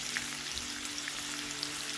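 Onions fry in a pan for a prawn curry, a soft, even sizzle with faint scattered pops and a low steady hum beneath, quiet and unbroken.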